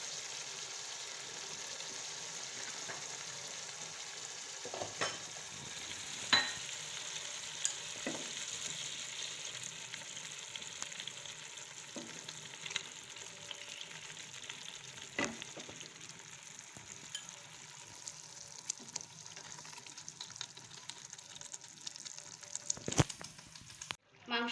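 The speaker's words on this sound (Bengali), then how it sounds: "এবারে আমি এর মধ্যে ম্যারিনেট করা চিকেনটা" Marinated chicken kasha frying in oil in a pan gives a soft, steady sizzle throughout, broken by scattered scrapes and taps as it is stirred.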